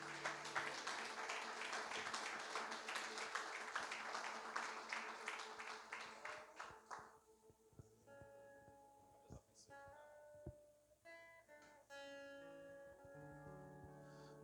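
Church congregation applauding during a worship service, a dense, steady clapping that fills the first seven seconds and then gives way to sustained organ or keyboard tones with scattered voices.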